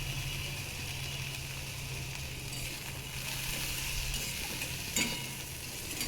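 Vegetable stems being sautéed with turmeric, salt and Kashmiri chili powder in a pan, a continuous even sizzle with faint stirring scrapes and a brief clink near the end, no voices.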